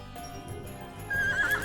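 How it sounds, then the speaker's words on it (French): A horse neighs and its hooves clop during fast travel in the video game Bravely Default II, with a brief whinny over soft background music. "Petit bruit de cheval, magnifique."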